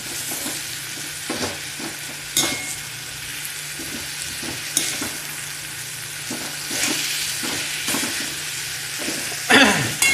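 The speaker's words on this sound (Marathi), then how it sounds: "मिक्स करायचं आहे, जेणेकरून मस्त ती छान जिऱ्याची फोडणी, जिरे मिरचीची मस्त फोडणी तुपाची." Grated sweet potato being stirred in ghee with cumin and chili in a kadai, a continuous sizzle broken by repeated scraping and stirring strokes of a spoon against the pan.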